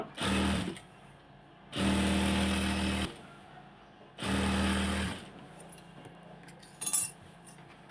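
Three short runs of a sewing machine stitching a salwar, each a loud whirring burst lasting one to one and a half seconds, separated by quiet pauses and ending with a small clink.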